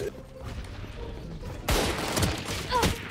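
Gunfire in the video game Valorant, a sudden burst of rapid shots and impacts in the second half after quieter game ambience, with faint talk in the background.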